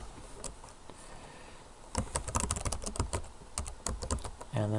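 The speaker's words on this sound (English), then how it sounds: "And then just typing through there and tabbing through that." Computer keyboard clattering close up as someone types and taps the tab and arrow keys, starting with scattered single presses and then turning into quicker irregular bursts of keystrokes.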